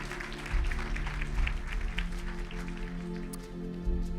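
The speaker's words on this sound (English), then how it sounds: "Let's give her a round of applause." A studio audience claps for a contestant eliminated on a televised talent competition, a steady patter of applause over a bed of background music.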